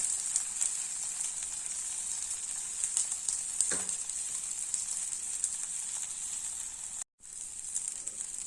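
Steady, fairly loud sizzle of food frying in oil in a pan, likely a dosa or vegetable dish for a South Indian lunch box, hissing continuously with one brief drop-out near the end and no talking.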